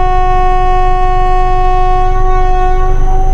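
The Chennai Egmore Superfast Express departing Salem Junction blows a long steady multi-tone horn chord over the low rumble of the running train, loud and close throughout.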